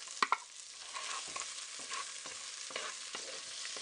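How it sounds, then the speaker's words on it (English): Chopped onions stirred into hot bacon fat for collard greens, a steady sizzle and frying crackle with a few sharp scrapes and clacks of a spoon against the pot at the start. "at this point, I'm going to put in my onions"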